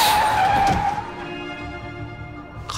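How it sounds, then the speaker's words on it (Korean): A bus braking hard and skidding to a sudden stop, a loud high screech of tires at first that fades into a lingering rumble and settling noise. "갑자기 급브레이크를 밟는 소리와 함께 버스가 거칠게 확 멈춰서는 거예요"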